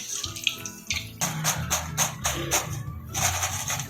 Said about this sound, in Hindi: तेल हमारा गर्म हो चुका है तो इसमें मैं डाल रही हूँ समोसे